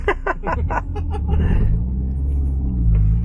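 A turbocharged all-wheel-drive Honda Element revs hard in first gear, the engine note rising through quick pulses before easing into a low, steady rumble heard from inside the cabin.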